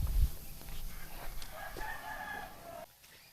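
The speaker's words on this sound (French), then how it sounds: "Et j'entends des coqs" A rooster crows faintly in the distance in a Toraja village near Rantepao, Sulawesi, its call rising and falling over a quiet outdoor background.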